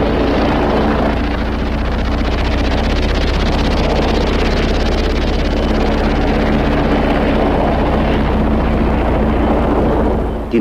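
A military attack helicopter, of the kind like the BO-105 PAH or the American AH-1 series, flies past with a steady, loud rotor and engine roar that stays constant throughout, with wind noise and no talking.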